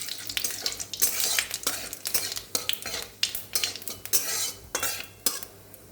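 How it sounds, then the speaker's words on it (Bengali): Whole garam masala, cumin seeds and bay leaves crackle in hot oil for a Bengali dahi kofta, with repeated sharp bursts of sizzling and spattering plus stirring clinks close by, with no talking. "গরম তেলে আমি গোটা গরম মশলা, জিরে, তেজপাতা ফোড়ন দিয়ে দিলাম"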